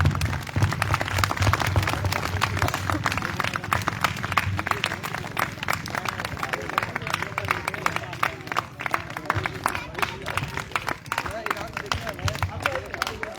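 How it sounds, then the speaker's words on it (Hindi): A crowd applauds at a prize distribution event, with dense, continuous clapping that carries on through the whole stretch, and murmuring voices can be heard beneath it. "रोशन सर के लिए जोरदार तालियां।"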